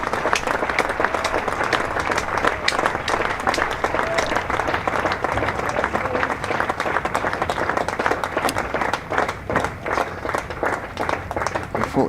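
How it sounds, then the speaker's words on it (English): Steady, dense applause from a cricket crowd at a Leicestershire v Glamorgan county championship match, many hands clapping together at a moderate distance for a sustained ovation. "We'll let you hear the applause for Colin Ingram, thoroughly deserved."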